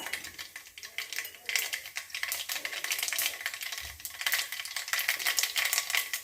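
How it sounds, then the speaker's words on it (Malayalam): Mustard seeds crackle and splutter in hot oil for a dal curry made with lentils, a dense run of sharp pops and sizzle throughout, fairly close and steady. "കടുക് പൊട്ടിയിട്ട് മാത്രം മതി കേട്ടോ."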